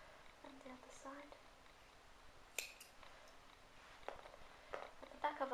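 Scissors snip yarn while a crocheted doll's hair is being made, giving a few soft, close cuts alongside quiet, low talk.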